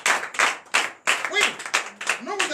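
A church congregation claps in a quick, uneven rhythm of bursts with short gaps between them, fairly close, and voices mix in among the claps.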